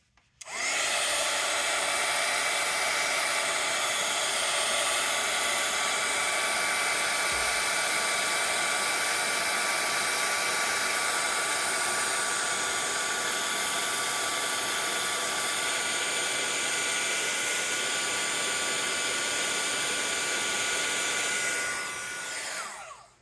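A handheld heat tool melting embossing powder blows a loud, steady rushing hiss at close range. It switches on, runs unbroken for about twenty seconds, then cuts off, with no talk over it.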